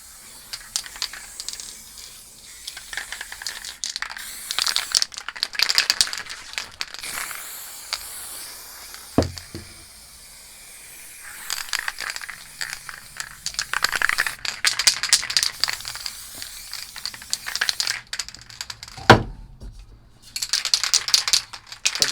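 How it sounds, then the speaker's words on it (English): Spray paint hisses from an aerosol can onto a canvas during planet painting, with repeated bursts of varying length separated by pauses, short rattles of the can and a few sharp knocks, and no talking. "spray the edges as well."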